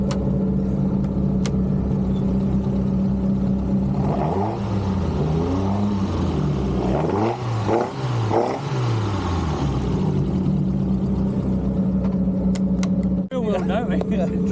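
A 370bhp Citroen Saxo VTS Turbo idles, then its engine is blipped and revved several times, rising and falling sharply, before settling back to a steady idle, with voices talking over it.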